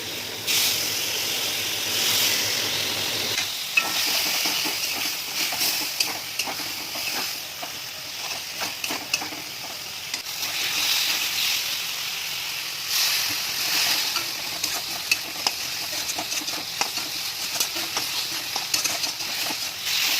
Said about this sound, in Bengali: আলুগুলো দিয়ে আবারও কিছুক্ষণ কষাতে থাকবো আর অল্প অল্প করে জল অ্যাড করতে থাকবো